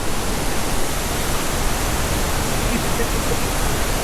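Devkar Falls roars as a steady, dense broadband rush of falling water that fills the scene at close range. Voices talk over the constant noise.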